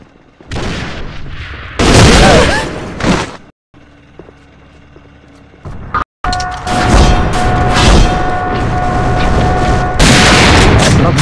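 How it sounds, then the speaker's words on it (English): Grenade explosions in the online shooter AVA, on the E-Boat map, come as loud, close booms mixed with gunfire and mechanical game noise, broken by brief silent cuts. "Бросаю гранату!"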